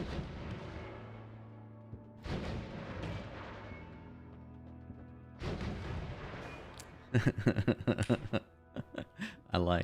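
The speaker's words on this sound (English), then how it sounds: "Large magic missile." In the game Noita, a large magic missile spell fires as a few booming, cannon-like blasts, then a quick, crackling burst of repeated pops, with someone talking over it.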